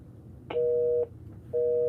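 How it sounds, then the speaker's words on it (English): Telephone tone from a robocall spam call: a short burst followed by two steady, loud electronic beeps with a pause between them, close and clear. "Did you hear the bloop? That's a robocall."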